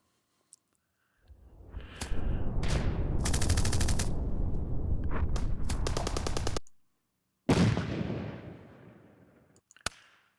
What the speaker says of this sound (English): So there's big battle sounds.